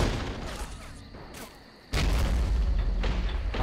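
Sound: cannon firing in Men of War video game

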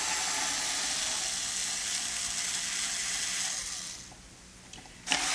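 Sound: screw gun removing bolts from a Fender Stratocaster back plate

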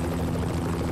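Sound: helicopter flying in video game Max Payne

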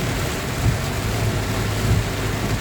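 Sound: heavy rain falling

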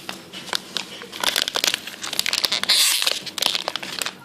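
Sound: opening a crinkly candy wrapper

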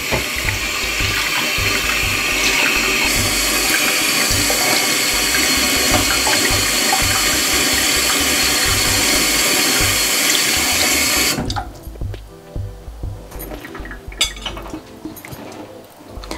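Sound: washing cut barracuda fish with water

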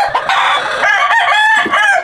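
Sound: rooster crowing

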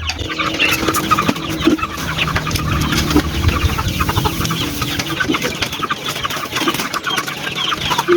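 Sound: hungry 45-day broiler chickens clucking

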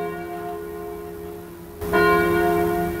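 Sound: bell ringing in a video game

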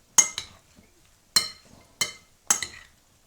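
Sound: stirring burrata salad in a bowl

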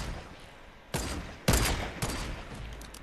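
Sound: gunfire in a base-raiding video game

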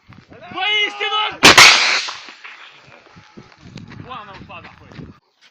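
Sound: gunfire fired as a birthday salute toward separatists

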